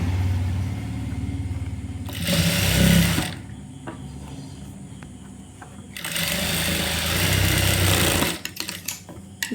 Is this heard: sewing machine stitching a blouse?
yes